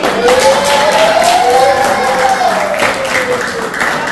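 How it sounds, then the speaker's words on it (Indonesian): Children applaud during a dental-care talk for preteens, a steady wash of clapping with a crowd murmur lasting the whole stretch, loud and close, while a voice speaks over it. "Tepuk tangan lagi."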